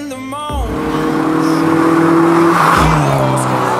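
A car engine fitted with a BMC custom air intake and a Bola Pro XS muffler with custom stainless steel exhaust revs loudly and steadily, holding a high drone that dips briefly before climbing again.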